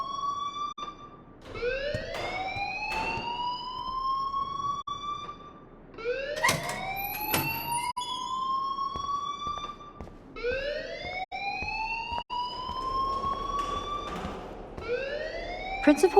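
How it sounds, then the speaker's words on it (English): Loud rising and falling electronic alarm wail in the game Life Is Strange, sweeping up repeatedly in regular cycles with brief breaks between bursts. "please turn off that alarm since that's your job"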